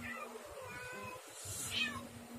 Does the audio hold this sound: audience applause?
no